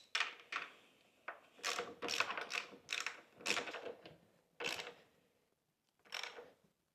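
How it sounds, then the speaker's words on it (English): A socket ratchet tightens a bolt with a 19mm socket while a Qronge X1 Spark M is assembled; there are several short, close bursts of rapid clicking separated by brief pauses, and no one speaks. "Then we have our 19mm socket. We're going to go ahead and tighten this guy up."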